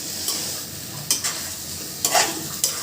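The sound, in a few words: fried meat being stirred and sautéed in spice paste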